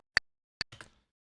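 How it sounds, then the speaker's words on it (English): A few sharp clicks, two crisp isolated ticks followed by a softer cluster, quiet and close with silence between. "this will actually render our click to a new track"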